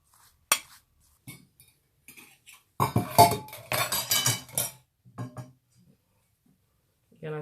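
Cutlery spreads peanut butter onto a moringa pancake, producing scattered clinks and scrapes against a plate in short bursts between quiet gaps, with a denser run of scraping in the middle.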